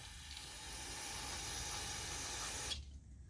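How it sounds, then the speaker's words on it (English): A steady hiss of cleaner sprayed onto a Thor speedway drill, lasting nearly three seconds, close and fairly loud, then cutting off abruptly into quiet. "let's give it a little spray shine"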